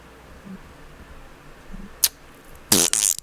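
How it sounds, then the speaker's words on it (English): A fart breaks a quiet room: a faint sputter at first, then a short, loud, buzzy burst near the end. "Fart."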